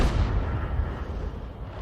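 A leFH18B2 artillery gun in a video game fires a round, a heavy low boom with a rumbling tail that fades over under two seconds.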